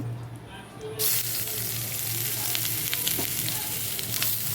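Onions drop into hot oil already crackling with cumin seeds, dry red chilli and bay leaf, setting off a sudden loud sizzle after a quieter start that stays strong and close through the rest.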